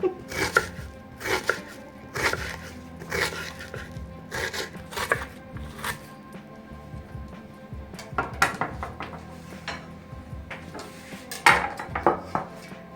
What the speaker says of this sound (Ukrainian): Цибульку нарізати в кубиком буду. Нарізаю